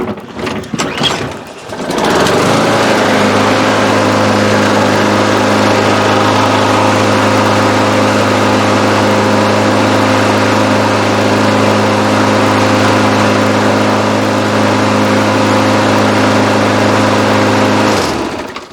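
A secondhand lawn mower engine starts on the first pull and then runs loud and steady at a constant idle, a close, even droning hum that holds for about fifteen seconds before cutting out.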